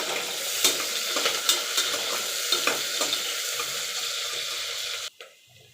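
Chopped onions sizzle steadily in hot oil while a spoon scrapes and stirs them in a rhythmic series of scrapes, close and fairly loud, stopping abruptly near the end.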